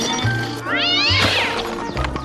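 A cat meows in a TV commercial, giving one drawn-out, rising and falling meow close up and loud, with a low background hum and a brief thump beneath it.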